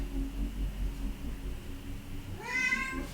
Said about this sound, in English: I have the loudest cat in the world. Meow.